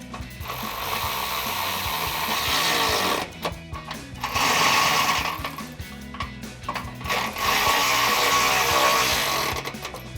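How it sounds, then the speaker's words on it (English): Bolts securing side step bar brackets to the body of a 2022-2024 Toyota Tundra are driven with a 1/2 inch socket, producing three close, loud bursts of rapid mechanical ratcheting separated by short pauses. "then we can go back and tighten up the bolts that mount the brackets to the body using a 1/2 inch socket"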